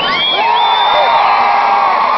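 A large, diverse crowd at a political rally in Florida cheers loudly, with whoops and high shouts rising over a continuous roar, close and intense from start to finish.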